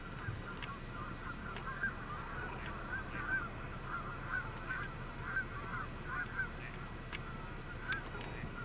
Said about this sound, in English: The duck you're hearing, that's a gadwall.